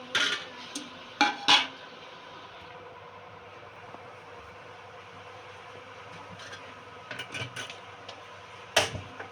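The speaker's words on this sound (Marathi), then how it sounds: "आपण त्याच्यामध्ये आपण टोप तापायला ठेवूया" A metal cooking pot set down on a stove with a couple of sharp clanks at the start, followed by quieter kitchen clatter, a low steady hum and another loud metallic knock near the end.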